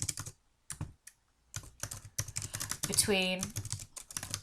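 Typing on a computer keyboard: close, uneven bursts of key clacks with short pauses, with someone speaking briefly over them.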